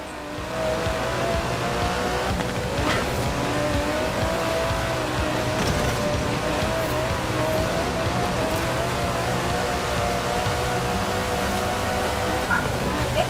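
A 5.2-litre twin-turbo V12 Aston Martin DB11 drives in the video game Forza Horizon 4, its engine droning steadily and loudly with a wavering whine that holds throughout.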